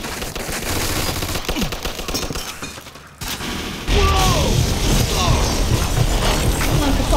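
Machine-gun fire in the Mafia 2 shooter game, sustained rapid bursts that are loud and close, broken by a brief lull and then resuming more heavily amid crashing debris.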